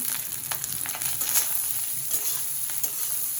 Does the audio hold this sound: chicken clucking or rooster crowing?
no